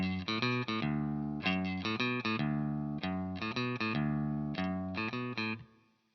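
A guitar plays a bass-line part in drop D tuning for a rendition of Elvis Presley's Don't Be Cruel, short distorted low notes in a bouncy, repeated rhythm, clear and alone, ending on a fading note.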